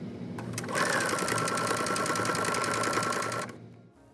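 A sewing machine back stitches the corners of a half square triangle quilt square, its needle chattering in a fast, steady close-up run for about three seconds before stopping.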